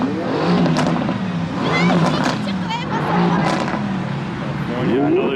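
A Porsche 911 GT3 RS engine revs loudly and close by, the pitch climbing and falling in repeated surges, with a voice briefly audible over it.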